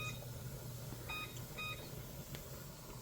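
A kitchen timer is being set during pressure canning of chicken broth. Two short electronic beeps sound faintly a half-second apart over a low, steady background hum, with no talking.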